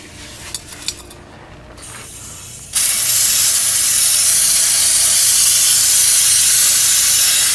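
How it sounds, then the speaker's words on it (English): Brake cleaner sprays from an aerosol can onto an oil drain plug and filter on an International 4300 truck, a loud steady hiss that starts suddenly after a few light clinks and holds without a break. "Spray some brake cleaner on the plug and spray some brake cleaner on the filter."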